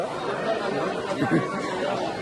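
A crowd of pilgrims chattering at Ekvira temple in Lonavala, a dense, steady murmur of many overlapping voices at moderate level, with no single voice standing out.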